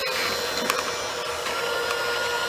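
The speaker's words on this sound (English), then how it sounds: "The mixer speed down to medium," Electric stand mixer running steadily at medium speed with a continuous whirring motor drone, close and fairly loud, alone with no talking, ahead of flour being added a tablespoon at a time.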